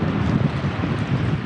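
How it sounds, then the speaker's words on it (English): Strong wind by a bay buffets the microphone with a loud, continuous rushing roar and low gusty rumble, with no voices. "it's a lot cooler down here, but actually quite windy as well."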